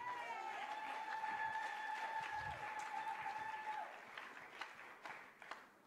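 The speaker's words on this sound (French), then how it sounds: "Acclame très fort pour le Seigneur" A church congregation applauding and cheering for the Lord, a broad crowd roar with clapping, sustained tones from a keyboard or organ held over it, fading toward the end.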